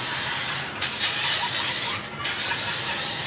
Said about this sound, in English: this L'Oreal setting spray